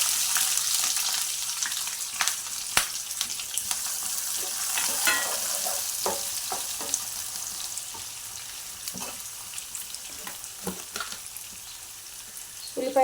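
Chopped onion and green chilies fry in hot oil with dried red chilies, cumin and mustard seeds, a continuous crackling sizzle broken by scattered sharp pops and stirring clatters, close and fairly loud.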